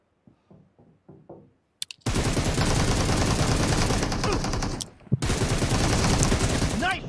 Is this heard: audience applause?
no